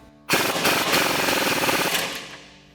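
A pneumatic impact wrench with a 19mm socket tightens the nut on a lower strut bolt in one loud, rapid hammering burst of about two seconds, then winds down.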